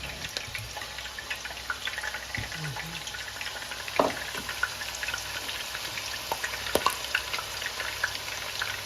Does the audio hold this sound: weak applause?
no